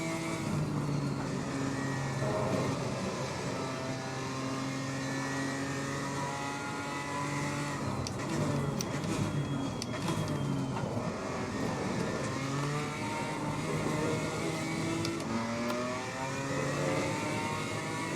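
BMW M4 GT4 race car engine lapping Suzuka in the Assetto Corsa Competizione racing game, a loud, steady engine drone that rises and falls through repeated gear changes and revs without a break.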